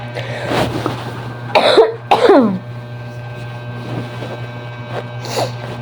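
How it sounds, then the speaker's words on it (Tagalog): Several harsh coughs in quick succession close to the microphone at the Sinulog Festival in Cebu, over a steady low hum, followed by quieter breathy sounds. "Grabe yung ubo ko ba?"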